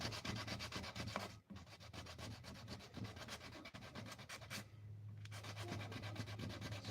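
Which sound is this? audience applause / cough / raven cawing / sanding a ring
sanding a ring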